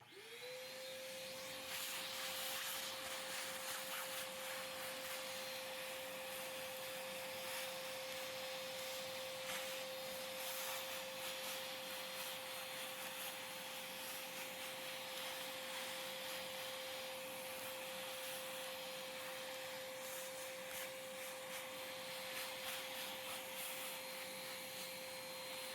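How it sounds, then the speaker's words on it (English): A small 2-gallon shop vac switches on and runs steadily over a Razer BlackWidow V3 keyboard, a loud constant whine with rushing air and faint rattling of debris throughout. "just use a small little shop vac, little 2-gallon shop vac, and suck all this off"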